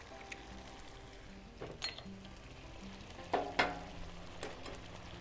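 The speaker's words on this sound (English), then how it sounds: "Now, I'm gonna crack the eggs in." Eggs are cracked into a hot pan of menemen, giving soft crisp sizzling with a few sharp cracking taps and brief louder bursts of frying, fairly quiet and close.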